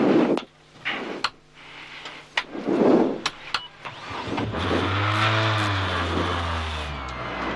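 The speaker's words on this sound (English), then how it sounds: "Engine." A 2002 WRC rally car on the Swedish Rally builds into a loud, sustained engine rev with rising harmonics, following a few sharp clicks and bumps inside the car.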